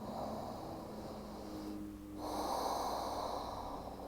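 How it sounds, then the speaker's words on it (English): A slow, deep inhale through the nose during a restorative yoga flow, faint and close with a soft airy rush that swells toward the end. "we'll take another big breath in"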